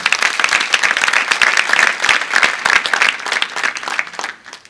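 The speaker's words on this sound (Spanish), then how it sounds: "Aplaudan al Señor en alabanza." A church congregation claps loudly in praise during a Spanish-language sermon, brisk, crisp and sustained throughout before tapering off at the end.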